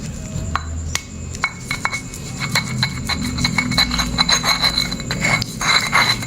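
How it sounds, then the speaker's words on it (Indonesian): Half a garlic clove is crushed for fishing bait, producing a quick series of sharp clinks, taps and scrapes against a hard surface, close and fairly loud. "Dan langsung aja kita haluskan bawangnya dulu."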